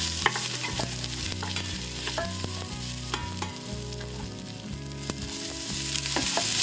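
Aromatics stir-frying in sesame oil in a pan, a steady sizzle with scraping stirs, fairly quiet and close, with no talk and low tonal music underneath.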